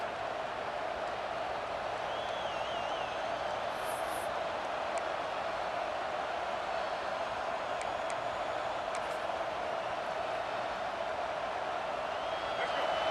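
A football stadium crowd roars on first and goal late in the game, a dense, steady, loud wall of noise that holds for the whole stretch without dying down.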